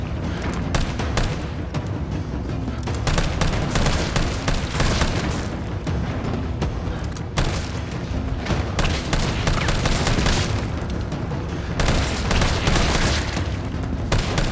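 Dense, continuous gunfire from the Resident Evil 3 Remake video game on Nightmare difficulty, loud rapid shots and booms layered without pause throughout.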